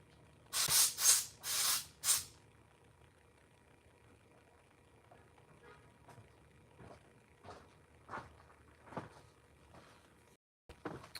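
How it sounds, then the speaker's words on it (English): Compressed air from an air compressor blasts in three or four loud, hissing bursts while an oil seal is replaced, then gives way to quieter clanks and shuffling. "Let me go hit this with the air compressor real quick."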